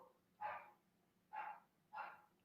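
Dogs barking outside a house, three separate barks spaced about a second apart, moderately distant and clear over a quiet background.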